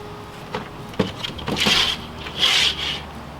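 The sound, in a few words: knife cutting chicken neck skin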